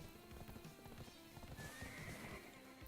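A horse galloping along a road in the Black Desert video game, with a quick run of close hoof clip-clops, then a drawn-out whinny, under faint background game sounds and with no talking.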